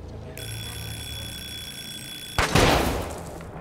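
Bells ring in The Walking Dead: Saints & Sinners as a steady, sustained metallic ringing tone. It cuts off abruptly and is followed by a loud, noisy burst like a blast.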